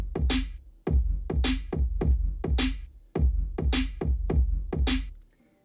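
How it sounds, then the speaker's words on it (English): Trap-style beat mixing bass drum and snare drum samples: deep booming kicks alternating with sharp bright snare hits in a steady loop, fairly loud and close, ending with a short fade. "So it sounds like in the bass drum and snare drum, when they're mixed in, it sounds like this."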